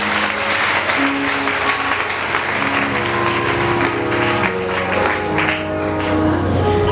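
A church congregation at a French-language healing-week service applauds steadily for several seconds, a dense sustained clapping mixed with music and crowd voices.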